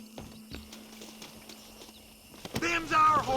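Horses' hooves clip-clop in Red Dead Redemption, a series of sparse, distinct thuds at an even walking pace, followed by a louder burst of game sound near the end.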